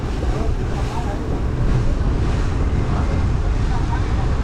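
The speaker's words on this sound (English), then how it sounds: "But you guys can sure hear that wind." Strong wind roars and buffets steadily, a loud broadband rush with low rumbling gusts, over open water while fishing off Costa Rica.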